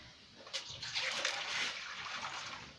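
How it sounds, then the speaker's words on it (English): Water poured into a basin for washing cabbage in a Kenyan village kitchen, a soft, steady splashing and trickling that swells slightly and continues throughout at low volume. "I put some water here."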